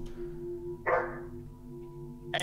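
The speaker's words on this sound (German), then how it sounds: "Ja, das ist aber echt ein Hund." A dog barks near a home's front door, picked up by a doorbell camera: one loud, short burst of barking, then a quieter stretch and another sharp sound at the end.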